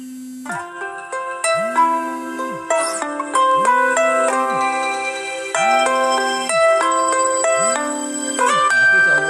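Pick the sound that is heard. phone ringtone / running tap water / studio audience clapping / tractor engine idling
phone ringtone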